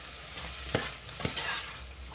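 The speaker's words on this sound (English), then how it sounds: "We're going to give that a good stir." A spoon stirs carrots, onions and garlic through a pot over a soft sizzle, two distinct scraping strokes against the pan, fairly close but quiet.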